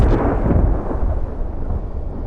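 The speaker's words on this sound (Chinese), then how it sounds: "又是雷电" Thunder and lightning effect in an animated fantasy series, a loud deep rumbling roll that starts with a crack and slowly fades, heard alone without voices.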